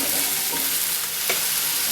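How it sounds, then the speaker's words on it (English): Garlic sautéing in a pot for butternut squash soup, a loud, close, continuous sizzle and crackle of frying with a brief stirring scrape, and no talking. "We're going to saute the garlic for about 30 seconds."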